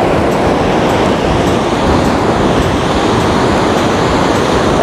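Rough sea off Guarujá, Brazil, with heavy waves crashing onto the shore in a continuous loud roar and wash, close by with no clear breaks between surges.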